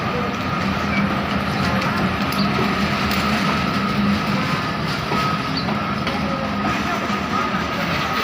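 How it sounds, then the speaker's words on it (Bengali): A local train rolls past close by at a crossing, a continuous rattling roar with clattering wheels, and voices murmur faintly underneath. "local train"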